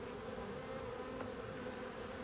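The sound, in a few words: honeybees around a queen cage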